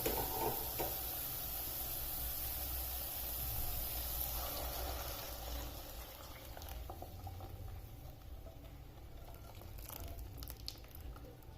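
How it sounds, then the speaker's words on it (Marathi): Hot milk poured into roasted fresh coconut in a pan for coconut kheer, a steady soft hiss and bubbling sizzle of liquid meeting hot food, continuous and fairly faint. "आता यात टाकायचं जे आपण बाजूच्या गॅसवर दूध गरम करायला ठेवलेलं होतं ते गरम दूध यात टाकायचं"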